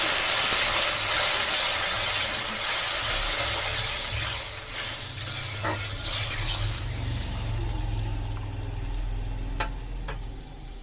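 Water poured into a pan of hot fried spice paste for a rohu fish curry bursts into a loud hiss and bubbling that slowly settles, with a couple of faint utensil clinks near the end.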